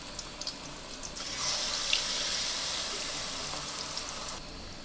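Water lily flower fritters fry in hot oil, a steady close hiss and crackle of sizzling that swells briefly in the middle, with no talking.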